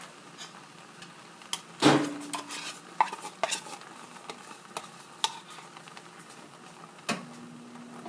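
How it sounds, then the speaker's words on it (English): A spoon scrapes the remains of a Maria cookie and Tootsie Roll dessert out of a dish, giving a sharp clatter followed by scattered light scrapes and taps, close and fairly quiet. "I'm just going to grab a spoon and get the rest of that out."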